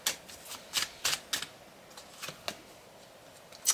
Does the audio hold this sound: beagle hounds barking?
no